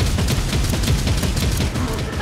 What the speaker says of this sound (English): Lots and lots of shooting.